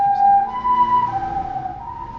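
An ambulance siren wails on a small road close by, its rising and falling tone loud and clear for a couple of seconds with no voices over it.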